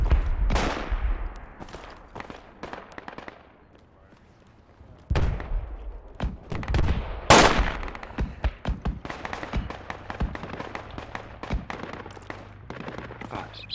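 Gunfire in the Project Reality video game comes as sharp, loud bursts of rifle and machine-gun shots, near and far. A quiet lull breaks the firing before it resumes in rapid, irregular volleys.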